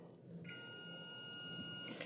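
A multimeter on continuity mode beeps while probing an SMD capacitor on a phone circuit board, one steady high tone lasting over a second, faint and close with a low background hum.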